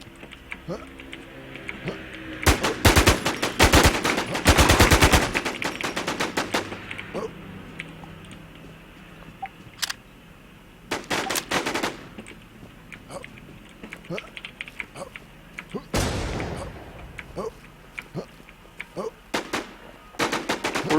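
Gunfire in the online zombie survival game WarZ: dense machine-gun bursts near 3 to 5 seconds, then shorter volleys and single cracks, loud and close, with a voice talking between them.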